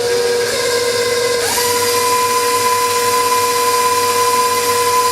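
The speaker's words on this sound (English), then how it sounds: "I'm going to mix this on medium now for a couple minutes more." An electric mixer whirs at medium speed, a loud, continuous high-pitched whine with a steady hum that shifts pitch slightly early on, then holds.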